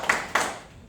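Two sharp, separate claps ring out close by after an artist speaks at an academy members' day, each one fading quickly into a quiet room.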